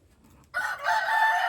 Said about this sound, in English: How many roosters I got in here?